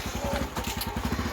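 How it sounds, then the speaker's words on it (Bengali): A motorcycle goes by on a road near a house, its engine giving a steady low, pulsing throb across the short moment with no talk. "ওই বাইক যাচ্ছে"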